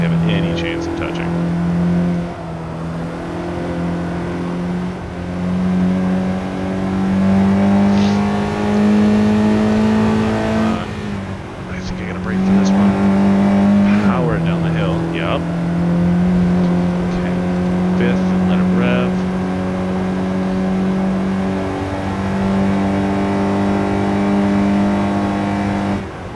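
A 2026 Honda Prelude engine in a racing video game on a California highway, a sustained droning hum that climbs and dips in pitch through gear changes and a sudden drop around the middle, steady and prominent.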